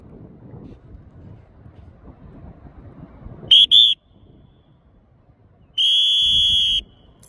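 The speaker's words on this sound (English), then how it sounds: "All right, two whistles, one whistle." Two coach's whistle blasts at a sports team practice, a short double blast followed by a longer single sustained blast, loud and shrill over quiet background rumble.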